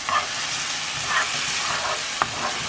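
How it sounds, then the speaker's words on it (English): Steady, close sizzling of food frying in a pan for homemade meatloaf, with a few soft scrapes and one sharp utensil click as it is stirred. "So now I'm gonna keep on stirring until they're translucent"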